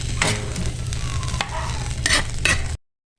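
Tinapa and sardines are stirred into a papaya vegetable dish in a pan, with a spoon scraping through the food over a low sizzle. A few distinct scrapes come before the sound cuts off abruptly.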